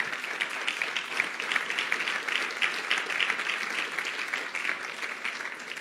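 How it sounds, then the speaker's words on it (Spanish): A church congregation gives a loud round of applause to God during a sermon, a steady, fairly distant wash of many hands clapping that holds evenly throughout. "Dele un fuerte aplauso a Dios"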